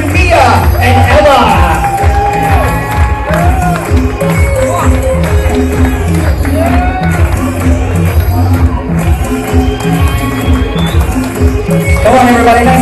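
Wedding guests clap and cheer for the bride's father as he enters escorted by two grandchildren, a loud steady crowd din with whoops and shouts over music.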